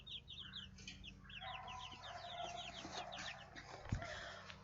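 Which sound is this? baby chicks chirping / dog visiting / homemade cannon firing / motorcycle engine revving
baby chicks chirping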